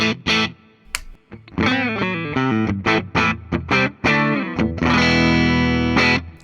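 A 2012 Gibson Buckethead Signature Les Paul in split-coil pickup mode, distorted, playing bright, punchy single notes and chords in a choppy rhythm, ending on a sustained ringing chord.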